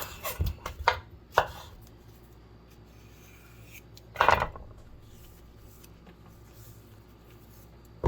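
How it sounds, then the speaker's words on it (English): Knife chopping fruit for kiwi banana pudding: a few quick bursts of knife strikes near the start, one more burst midway, then quiet prep noise with no talking. "And just get this chopped up."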